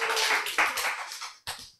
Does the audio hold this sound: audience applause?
yes